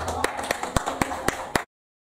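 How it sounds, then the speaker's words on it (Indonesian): An audience at a Gayo poetry reading claps in about seven sharp, evenly spaced beats, fairly close and loud, then stops abruptly into silence. "Tepuk tangannya mana?"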